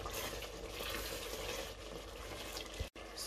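Fish and dried shrimps stirred in a sizzling frying pan, a steady bright hiss with soft scraping running throughout, a brief pause near the end, no talk.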